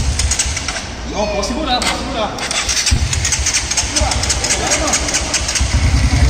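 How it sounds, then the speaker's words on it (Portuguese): A motorcycle engine cranks over and catches, then settles into a steady idle close by while people talk over it in Portuguese. "Mostrar o barulho pra galera, pra essa moto."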